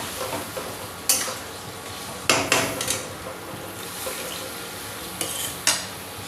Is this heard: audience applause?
no